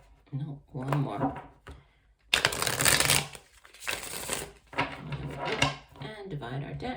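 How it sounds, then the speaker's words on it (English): A deck of tarot cards is shuffled in a loud, close riffle lasting over a second, with someone talking before and after it. "We'll do one last shuffle."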